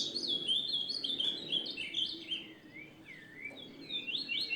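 A small bird chirps repeatedly, a quick series of bright twittering calls running almost continuously, close and clear over a faint background hiss, with no voices.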